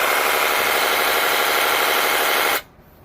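A Ryobi cordless reciprocating saw runs with a steady, loud, high-pitched motor whine, close by and unbroken for over two seconds before it abruptly stops.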